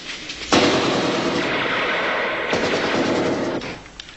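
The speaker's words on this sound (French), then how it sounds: "on reçoit des coups de feu à l'extrémité est de la prison" Sustained bursts of rapid gunfire at a high-security prison in an escape film, loud and dense, with a short pause before a second volley that tapers off.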